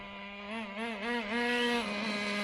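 A Traxxas T-Maxx 2.5 nitro RC truck with unbalanced tires revs through a 2-speed pull, its small engine holding a loud, steady buzzing whine close by with wavering pitch that climbs as it accelerates.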